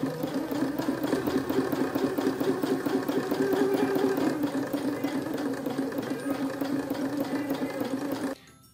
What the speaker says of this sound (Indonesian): kemudian mulai menjahit